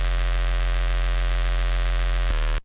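A loud, sustained synthesized bass tone hums with a buzzy pulsing texture, then cuts off abruptly after a brief change near the end.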